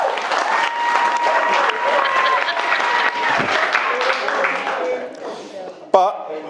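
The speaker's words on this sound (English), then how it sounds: "I think that deserves a round of applause." Wedding guests at a barn venue clapping in a sustained round of applause, with cheers, laughter and chatter mixed through, before a brief louder burst near the end.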